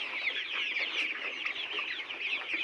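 A flock of layer pullets on a poultry farm clucks and chatters continuously, a dense, fairly quiet chorus of many birds with no talking.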